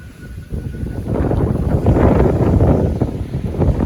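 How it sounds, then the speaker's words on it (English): Strong, roaring wind gusts from Hurricane Milton, blowing at 50 to 58 mph, buffet the microphone outdoors in a steady broadband rush that swells loud and stays heavy throughout. "The wind gusts are wind gusting right now."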